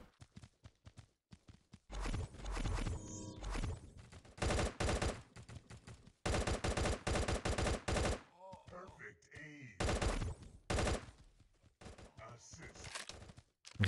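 Gunfire in the mobile shooter Gods of Boom, with loud broadband bursts of shots and rapid volleys coming in clusters amid game sounds, with a player talking between the bursts.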